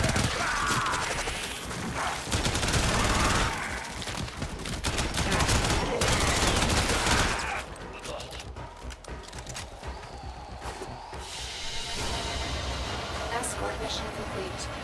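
Dense rapid gunfire from the video game Warframe, loud and continuous for the first half before easing into busier mixed game noise, with a voice talking over it.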